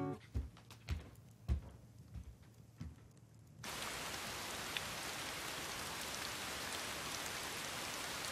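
Steady, dense rain pours down continuously at close range, an even wash of sound without a break, taking over suddenly after a few seconds of quieter knocks and thumps indoors.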